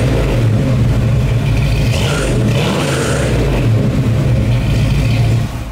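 A Ford Bronco engine, fitted with dual muffler exhaust, rumbles loudly and continuously close by, with a deep steady drone and slight swells as it revs throughout.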